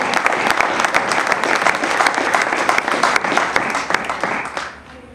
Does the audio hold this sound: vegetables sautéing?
no